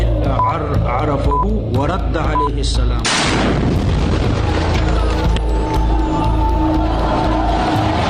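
Voices and crowd noise are cut off by a sudden, loud bomb blast at a madrasa in Peshawar, followed by a heavy rumbling roar and chaotic clatter that lingers.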